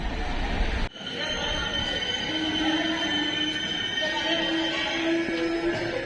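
Passenger train on the Pune to Tirupati route rolling along near Adoni station, a continuous rumble with faint wheel squeal and a brief sharp jolt early on, heard from inside a carriage.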